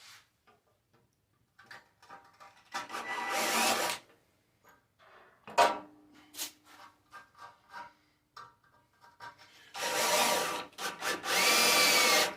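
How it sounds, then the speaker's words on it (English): A small battery drill with a small bit whirs in short bursts with pauses between, boring a pilot hole, the longest runs coming near the end. "Using a smaller drill bit for the pilot hole."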